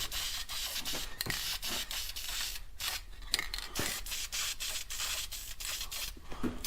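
Spray gun laying a heavier second coat of paint on a car, a steady continuous hiss broken by short pulsing bursts as the trigger is worked, close and fairly loud with no talking.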